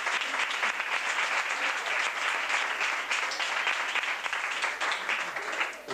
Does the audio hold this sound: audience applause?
yes